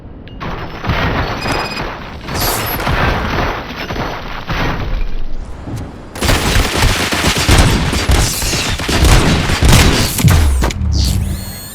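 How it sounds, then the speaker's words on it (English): In a video game, a volley of gunfire erupts as loud, continuous bursts with heavy crackling shots and booms, growing denser partway through, with no voices over it. "Fire at will."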